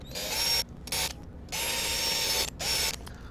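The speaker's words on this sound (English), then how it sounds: "now I'll just put the 3 screws back in, the short one first" A small electric screwdriver drives screws into an RC car A-arm, whirring in three bursts of varying length with short pauses between, close and clear.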